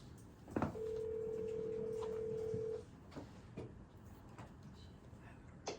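A telephone line tone sounds on a call placed from a committee meeting: one steady, sustained tone lasting about two seconds, close and fairly loud, followed by quiet room noise.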